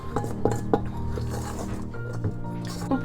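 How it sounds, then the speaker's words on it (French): Almonds, flour and sugar being mixed in a bowl for traditional biscuits make close clinks and scraping rubs of a utensil against the bowl in a short, busy stretch. "On va bien mélanger."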